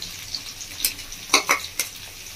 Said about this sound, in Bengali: ক্যাপসিকামটা আমি এবার দিয়ে দিচ্ছি কুচনো তেল